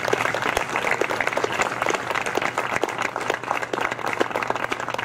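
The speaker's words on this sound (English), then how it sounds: "that deserves a round of applause" Audience clapping at a scholarship banquet, a continuous wash of applause with individual sharp claps standing out, steady and moderately loud throughout.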